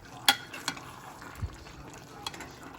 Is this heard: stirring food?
yes